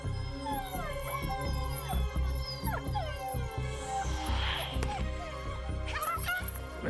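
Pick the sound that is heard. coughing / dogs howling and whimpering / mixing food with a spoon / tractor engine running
dogs howling and whimpering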